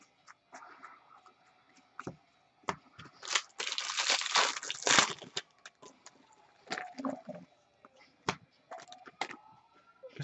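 Trading card packs are torn and unwrapped by hand, with crisp close crinkling and crackling that builds into a dense burst midway, then scattered rustles and snaps.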